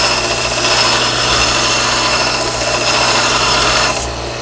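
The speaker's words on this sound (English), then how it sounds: "Now we're just going to take the belt sander." A belt sander grinds against a metal EGR block-off plate, a loud steady abrasive whir that runs continuously and eases off slightly near the end, with no voices.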